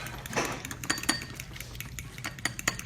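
Spoon stirring a herb and mayonnaise dipping sauce in a bowl, a quick series of clinks and soft scraping against the bowl with a thicker squelchy swirl near the start.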